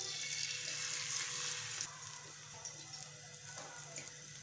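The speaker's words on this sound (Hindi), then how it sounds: "अंडों को हम फ्राई कर लेते हैं।" Eggs frying in a pan for a homemade burger, a soft, steady bright sizzle and crackle at low level, with no one talking.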